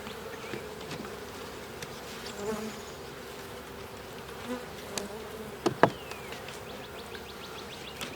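Honeybees buzz steadily around an open hive, a close, continuous hum with occasional louder passes and faint clicks and knocks from hive handling.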